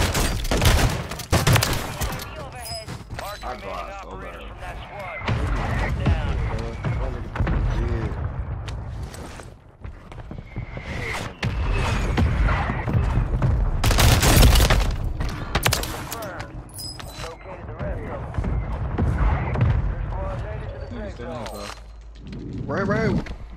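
Shotgun gunfire in a ranked Rebirth Island video game match, loud booming blasts scattered among other shots and clanking mechanisms, with players talking over the action.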